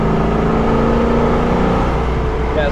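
A 1967 Pontiac LeMans cruising at about 70 mph and 3,000 RPM, heard from inside as a loud, steady engine drone with road and wind rumble and a few faint high whines near the end.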